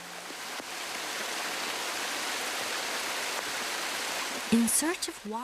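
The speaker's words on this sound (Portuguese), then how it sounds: "A água jorra ininterruptamente pela encosta." Shiraito waterfall on Mount Fuji pours water nonstop down the hillside, a dense, even roar that holds steady before a brief louder disturbance near the end.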